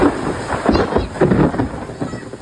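Big drops of the first monsoon rain fall in a Gujarati village during a thunderstorm, a loud, close, uneven patter and splatter with gusty rushes.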